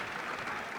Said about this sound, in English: A well-deserved applause.